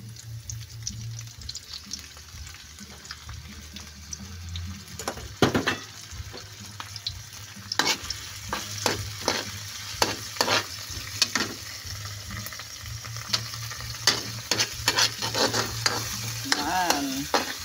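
Alamang shrimp paste sizzles in a pan as it fries, a constant hiss broken by frequent sharp scrapes and clatters of stirring, close and fairly loud, with a low hum underneath and no talking.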